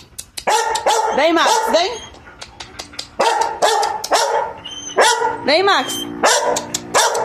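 A small dog yips and barks in quick bursts, with rising whiny yelps mixed in, while a person calls to it nearby about a ball.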